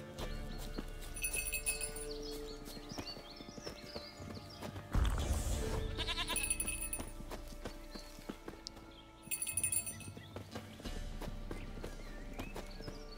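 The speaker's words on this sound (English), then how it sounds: "I love how the goat came all the way the fuck over here." Goat and horse hooves clip-clop in The Witcher 3 video game, producing a quiet, steady run of hoof taps with a brief louder burst partway through.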